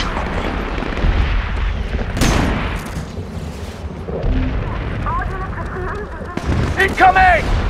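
Gunfire and heavy booms from the video game SOCOM 4: U.S. Navy SEALs, with a few loud bursts standing out from a constant rumble of combat while someone talks over the action.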